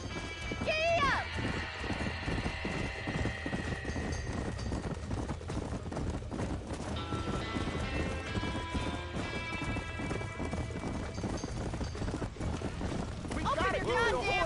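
A horse gallops in the video game Red Dead Redemption, with rapid rhythmic hoofbeats, a whinny and game music, while voices shout during a barn fire scene.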